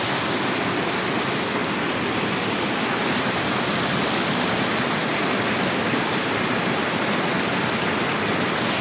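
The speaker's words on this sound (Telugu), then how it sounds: "ఇయో ఎట్లా పోతుంది వాగు" A stream near Tirupati, swollen after heavy rains, rushes past in a loud, constant roar of churning water that stays close and unbroken throughout, with no voices.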